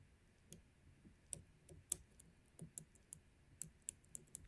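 Pin tumbler pins of an Emhart high security lock clicking under a pick, faint sharp irregular clicks scattered through a quiet close background.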